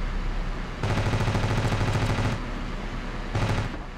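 Rapid machine gun fire from a Wyvern plane in the video game Ravenfield, a long sustained burst followed by a short second burst, loud and steady with no talking.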